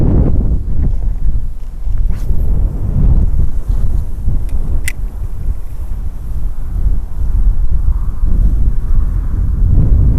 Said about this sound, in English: it's the wind is still blowing in the same way